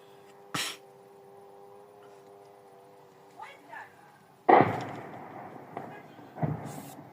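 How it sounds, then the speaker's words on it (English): Several booming blasts sound in the distance over the city of Makiivka, one sharp and several deeper, separated by quiet stretches with a few voices in between. "we can hear multiple explosions over here in the city of Makivka"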